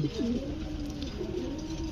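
Bombay pigeons coo in low, rolling calls that run steadily through the two seconds, fairly close and with no talk over them.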